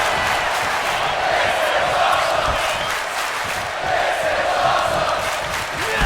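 A WWE 2K25 video game wrestling arena crowd cheers and roars continuously, a loud, dense wash of voices that holds steady throughout.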